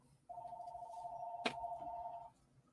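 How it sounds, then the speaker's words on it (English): A telephone bell rings in one steady, continuous tone for about two seconds, loud and close, then cuts off abruptly, with a brief click partway through. "If you hear that phone ringing,"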